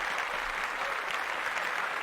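Steady applause from a group, a dense, even wash of clapping held for about two seconds at a moderate distance with no talk over it.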